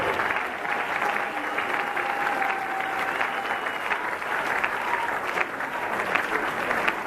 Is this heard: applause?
yes